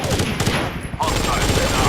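Dense sustained automatic gunfire in the Rainbow Six 3 tactical shooter on GameCube, a loud continuous fusillade of rapid shots with a brief dip before the firing swells again, filling the whole stretch.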